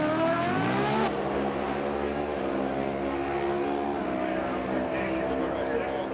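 Loud NHRA drag racing motorcycles at Indy roaring down the strip, a high engine whine rising in pitch as they accelerate, with a commentator talking over the steady roar.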